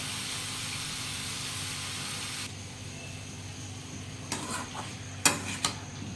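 Loud, steady sizzling hiss of chicken frying in a pan, which dies down halfway, followed by a few sharp clinks of a utensil against the pan.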